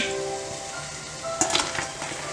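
Banana fritters (pazham pori) bubbling and sizzling in hot oil, a steady close frying hiss with a few sharper clinks and scrapes partway through as the pieces are stirred and lifted.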